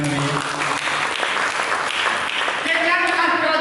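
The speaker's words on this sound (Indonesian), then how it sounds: "Mari kita berikan tepuk tangan yang meriah." Steady applause from a church congregation fills the whole stretch, dense and continuous, with a preacher's voice and some tonal sound mixed in underneath.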